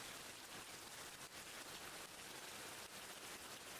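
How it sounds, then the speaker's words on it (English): Rain ambience: a steady, even wash of falling rain on surfaces, soft and continuous, with no voices or other sounds. "Are you listening to Rain? This is Rain."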